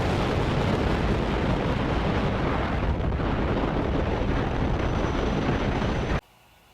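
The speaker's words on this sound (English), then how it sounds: "liftoff of Falcon 9" SpaceX Falcon 9 rocket lifting off on the Eutelsat mission, a loud, continuous broadband roar with crackling texture that holds steady and then cuts off abruptly near the end.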